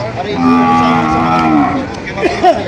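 Cattle moo nearby at a Batangas livestock market, one long low call followed by shorter bellows from several animals, with farmyard noise underneath.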